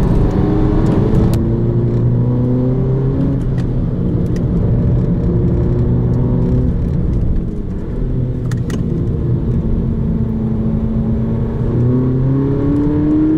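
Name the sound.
Volkswagen Polo GTI 2018 engine accelerating during test drive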